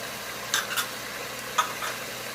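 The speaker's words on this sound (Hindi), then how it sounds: "मसाले को अच्छे से भून लेंगे।" Spices and chili, turmeric and curry powder for aloo methi fry in a pan, giving a soft steady sizzle broken by a few scraping strokes as the mixture is stirred.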